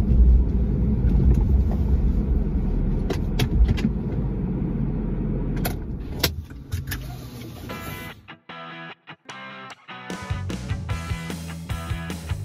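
A Jaguar XK8 drives along with a steady engine and road rumble, then slows and parks as the noise fades, followed by a few clicks and thuds.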